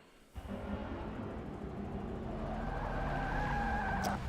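Race cars rumble in a steady, moderately loud drone behind a pace car at the Nürburgring 12-hour race, with engine tones rising and holding near the end.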